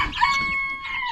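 A rooster crows close by in a farmyard of chickens waiting to be fed, a single bright, drawn-out call.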